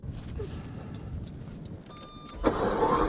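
A 1987 Ferrari Testarossa with about 14,000 miles, started after storage in snowy weather: quiet clicks and a brief starter whir, then the engine catches with a loud rumbling idle near the end.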